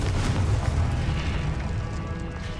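A Confringo fire-blast spell in the video game Hogwarts Legacy goes off as a deep, loud booming explosion, its rumble filling the whole clip without pause.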